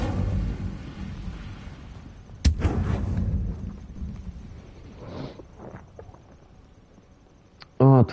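The Incendio fire spell being cast in Hogwarts Legacy, giving a rumbling whoosh of fire. A sharp burst follows partway through, then fainter crackles and a loud final hit, with a voice over part of it.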